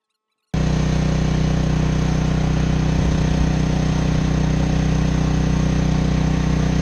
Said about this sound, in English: Somebody driving up.